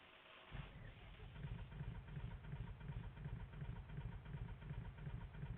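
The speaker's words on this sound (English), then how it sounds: "We're going to start up the engine here." A Cessna 152 engine in Microsoft Flight Simulator 2020 starts after a short quiet moment, then settles into a steady, throbbing idle with a regular pulsing beat, moderately loud and alone.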